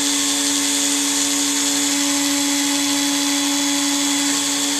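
A micRo CNC router etches plexiglass with a loud, steady high-pitched spindle whine, the tone holding constant throughout with a faint cutting hiss beneath it.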